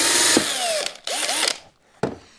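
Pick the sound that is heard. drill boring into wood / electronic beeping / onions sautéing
drill boring into wood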